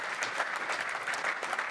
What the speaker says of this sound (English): big round of applause to Ethan and to Brenda for your support